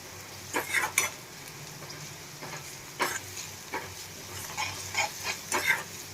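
Ginger-garlic paste and green chili sautéing in hot oil for a Gujarati eggplant dish, crackling with intermittent bursts of sizzle and stirring scrapes over a steady low frying hiss, close and moderately loud, with no talk.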